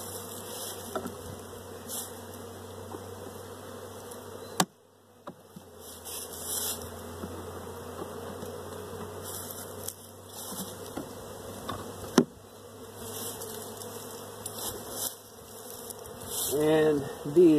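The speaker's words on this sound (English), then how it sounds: "these bees are going to come up to my face" Honey bees buzzing around an opened hive during hive cleaning, a constant close hum with individual bees droning past, broken by a few sharp knocks and clunks of hive parts and a quick rise near the end.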